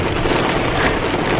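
Heavy rain pours down in a steady, dense hiss that holds without letup, close and fairly loud, with no voices.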